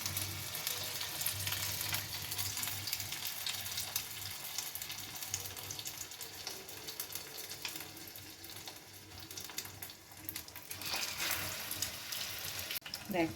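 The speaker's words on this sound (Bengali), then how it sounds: "দেখো এবার এগুলোকে হালকা আছে আস্তে আস্তে ভেজে নিতে হবে।" Egg-coated chicken biscuits sizzle gently in hot oil, a steady soft crackle that stays faint and constant throughout, with a few light clinks of stirring.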